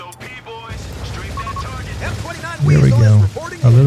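Gunfire and explosive bursts from a P-47 strafing run in the real-time strategy game Company of Heroes 3, loud booms and crackling impacts building toward the end, with voices speaking over the opening.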